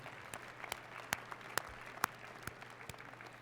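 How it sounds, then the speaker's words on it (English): Sparse, faint clapping from a few hands, scattered claps rather than a full ovation, heard from a distance. "Let's give them a round of applause."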